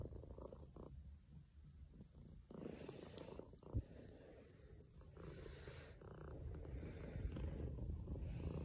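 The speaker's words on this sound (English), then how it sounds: "Elsa's purring away." A Persian cat purring softly and continuously indoors during a kneading session, a low rumbling drone with faint breathy pulses and a brief snort, with wind faintly audible outside.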